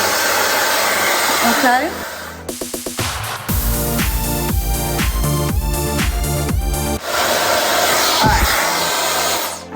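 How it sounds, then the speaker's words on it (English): L'BRISE Airstyler blow drying hair roots on its warmest setting, a loud, close, steady whirring hum that briefly stutters and shifts pitch as it is moved, with a short spoken word near the end. "So we're just gonna blow dry our roots to get some volume."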